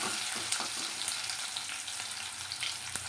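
Garlic fries in a hot pan, a steady bright sizzle with crackling pops and a few stirring scrapes, close and continuous with no talk.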